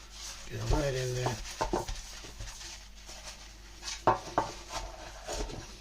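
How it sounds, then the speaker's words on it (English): Butter is rubbed onto baking pans with a tea towel while preparing banana bread, giving close, irregular scraping and rubbing strokes with a few brief squeaky smears against the metal. "Put some butter, always use a tea towel, save getting my hands greasy."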